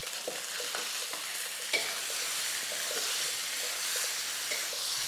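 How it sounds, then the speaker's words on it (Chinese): Chicken pieces fry in a wok over high heat with a constant hiss of oil, broken by sharp scraping and clacking taps as a spatula stirs them, all heard up close. "你就赶赶的开大火去煎它，把这个鸡肉的表面都煎香"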